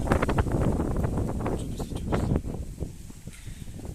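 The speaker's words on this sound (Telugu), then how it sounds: "కొంచెం గాలి వస్తుంది" Gusts of wind buffet the microphone beside a used 2012 Hyundai Verna 1.6 SX diesel car, a steady low rumble that is strongest early on and eases slightly toward the end, with no talk.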